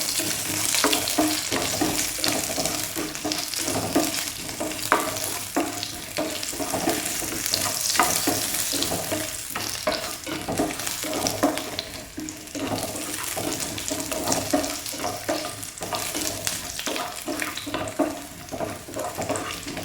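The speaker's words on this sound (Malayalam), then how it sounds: "ഇത് ചുമക്ക വറുത്തെടുക്കാം." Coconut pieces frying in hot coconut oil for a Kerala-style chicken roast, a steady close sizzle with occasional stirring and light water-like crackle running throughout, no talk.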